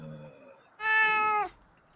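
A cat gives one loud, drawn-out meow lasting about half a second, close to the microphone, after a fainter short vocal sound, with quiet surroundings.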